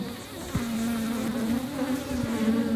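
Dense, steady buzzing of many aggressive honey bees close by during a honey harvest, a loud agitated drone with wavering pitch that continues throughout.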